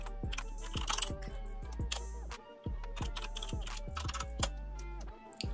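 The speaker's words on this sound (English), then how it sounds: "Let's go ahead and type in the user." Rapid keystrokes on a computer keyboard while logging into a CentOS 7 virtual machine, a steady run of sharp clicks with a short pause midway, set against a constant low tonal hum.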